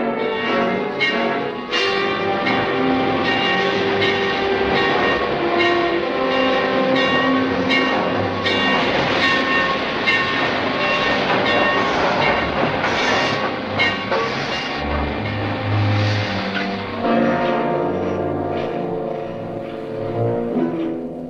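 A train runs steadily on the rails in a 1950 Western film setting, with sustained loud horn and bell-like tones, and the rumbling continues without pause and without any voices.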